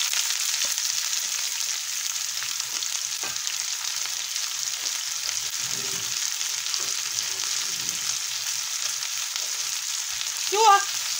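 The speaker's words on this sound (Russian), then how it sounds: "Все, маслечко нагревается. И поджарим его. Поджарим лучок." Young onions sizzle and fry in heated oil in a pan for a Korean-style garlic chive dish, a steady bright crackling hiss throughout, close and fairly loud, with a brief louder flare near the end.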